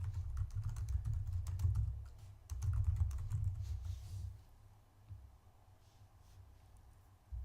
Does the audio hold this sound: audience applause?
no